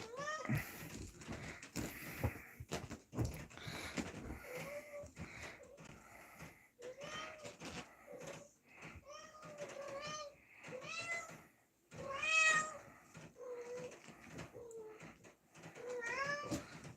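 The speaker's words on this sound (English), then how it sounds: "She meows every time" A cat meows again and again, with short rising and falling cries spaced across the whole stretch. Soft rustling and wheezy breathing sit underneath. The calls are close and fairly quiet.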